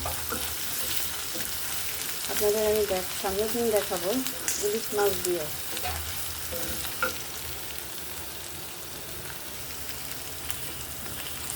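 Onions frying in oil for a taro-leaf and prawn dish, with a steady close sizzle and some stirring, while someone talks over it for a few seconds.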